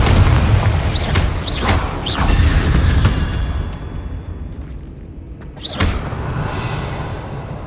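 Confringo fire spell blasts in the Hogwarts Legacy video game, heard as loud booming explosions with whooshing bursts layered over dense rumbling battle noise, then a quieter stretch broken by one more sharp blast.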